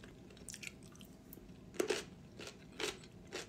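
Crunchy food is chewed near the microphone, with several distinct crunching bursts spaced roughly half a second to a second apart over quiet room noise.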